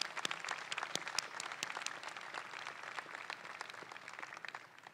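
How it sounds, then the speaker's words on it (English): University of Iowa convocation audience claps for the incoming class of 2027, a moderately distant, steady patter of many hands with scattered louder claps, sustained for about five seconds. "Let's give you all a round of applause."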